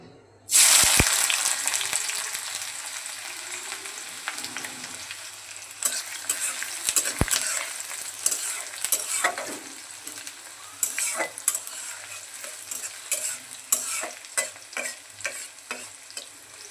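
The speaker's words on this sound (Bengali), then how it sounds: "এখন এই তেলে প্রথমে পেঁয়াজের বেরেস্তাগুলো ভেজে নেব।" Sliced onions for chicken biryani fry in hot oil in a wok, a loud, steady sizzle that starts abruptly and carries on throughout, with occasional stirring scrapes and clinks.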